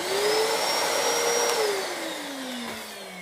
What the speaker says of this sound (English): when I turn it off, it turns the dust extractor off